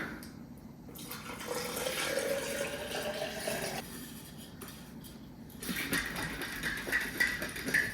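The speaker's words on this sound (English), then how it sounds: "Putting this in, and then adding my water." Water poured from a tap into a glass with passion fruit drink flavouring, a steady splashing fill with faint clinks of dishes and cutlery nearby, no talking.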